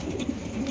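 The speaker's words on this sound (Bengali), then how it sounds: "একজোড়া মুন্ডি কবুতর" Mundi pigeons kept for sale give a low soft coo, a brief murmuring call close by with faint background noise and no talk.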